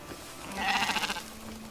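A sheep bleats once in the video game Crimson Desert, a short, quavering, fairly faint call that rises and fades within about a second.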